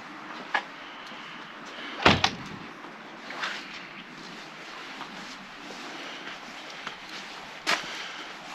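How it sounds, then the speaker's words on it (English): A door shut inside a historic almshouse, with a sharp close knock and rattle near the middle, plus a few lighter bumps and clicks before and after over a quiet room background. "Let's keep the door shut."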